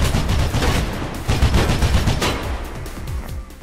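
Rapid automatic gunfire in the Mirror's Edge video game, a dense run of loud repeated shots with a brief lull near the end, no talking.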